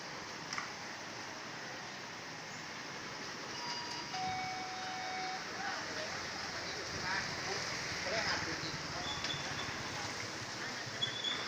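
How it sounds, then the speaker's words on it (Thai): Steady morning rain falls in a Thai town near a sports ground, a continuous broadband hiss with occasional faint tones and brief clicks, moderately loud and unbroken throughout. "ฝนตกแซะๆอีกแล้วครับท่านผู้ชม"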